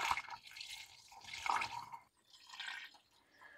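Water poured into the radiator of a 1981 Ford F100 with a 351W engine, a light splashing and trickling at close range in uneven bursts with brief pauses.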